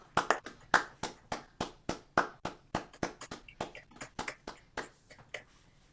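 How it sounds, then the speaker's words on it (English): An audience at an online writing performance event claps in a sparse, uneven patter of separate hand claps, each distinct and fairly close, thinning out toward the end with no talking. "I want to give a huge round of applause from us to these people."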